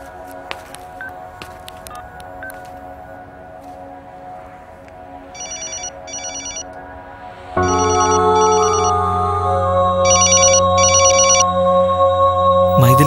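A mobile phone rings with a repeating electronic ringtone pattern, first softer and then much louder and fuller from the midpoint on, with no talking.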